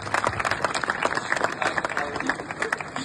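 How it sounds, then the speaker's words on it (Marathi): A crowd at a talk event breaks into applause, a dense run of overlapping claps, fairly close and steady, with faint voices mixed in. "जोरात टाळ्या व्हायला पाहिजे"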